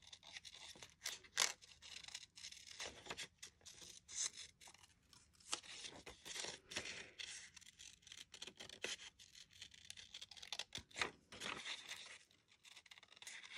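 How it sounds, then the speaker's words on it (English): Scissors snip out a paper picture for a journaling card, with quiet, irregular cuts mixed with light paper rustling and crinkling at close range. "So I'm just going to cut her out real quick."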